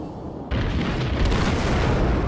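Naval cannons ripple firing in the World of Warships video game: a sharp onset of heavy booming salvos that merges into a dense, continuous rumble of overlapping blasts, loud and close.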